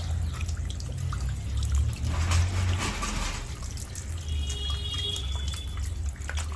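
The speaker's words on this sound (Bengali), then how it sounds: "আমি এখন মাছের মাথাখানা পরিষ্কার করতে চলে এসেছি মুড়োটা বেশ বড় মুড়ো" Tap water runs and splashes steadily while a large rohu fish head is washed in a sink, a close, continuous trickle with small drips. No voices.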